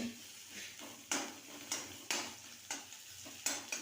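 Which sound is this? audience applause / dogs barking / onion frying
onion frying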